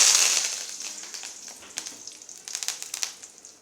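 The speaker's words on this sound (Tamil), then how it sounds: "எண்ணெயிலே கருவேப்பிலை தழை போட்டுக்கலாம்." Curry leaves hit hot oil in a kadai while tempering a pottukadalai coconut chutney. A loud hissing sizzle bursts up at once, then fades into scattered sharp crackles and pops up close.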